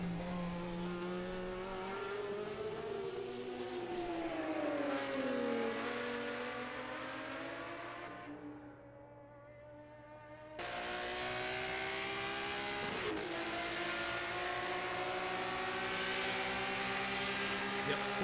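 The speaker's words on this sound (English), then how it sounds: "And these cars are both BMW powered." BMW-powered race cars roar around a circuit in a racing event, engines rising and falling through gear changes as they pass, a brief lull, then a loud sustained howl returns, with commentary faintly in the background.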